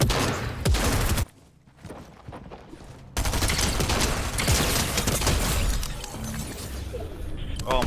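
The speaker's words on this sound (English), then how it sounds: "it's another team shooting" Another team's gunfire in Fortnite zero build: dense, loud bursts of rapid shots, a brief lull, then sustained crackling volleys that fade slightly toward the end.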